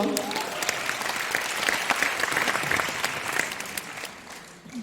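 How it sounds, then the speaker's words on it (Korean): Audience applause at a seminar, a steady wash of many clapping hands sustained at even loudness for several seconds, with faint voices mixed in underneath. "박수 한번 주십시오"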